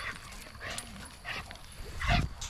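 Coon hunting dogs outdoors give a few scattered barks and yips, moderately near, with one louder bark near the end amid quiet background.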